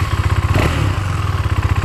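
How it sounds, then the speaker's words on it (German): KTM Duke 390 single-cylinder 370cc motorcycle engine idling close by with a rapid, throbbing pulse and one short blip of the throttle in the middle. "Für eine Einzylindermaschine mit 370 Kubik ganz ordentlich."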